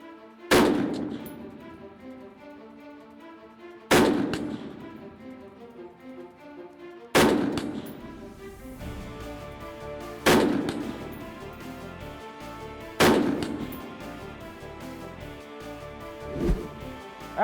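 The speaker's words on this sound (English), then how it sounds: "Five rounds at the human silhouette." Five loud rifle shots fired at a human silhouette target in an Army versus Air Force shooting competition, spaced about three seconds apart, each a sharp crack with a ringing echo tail, with a softer thump near the end.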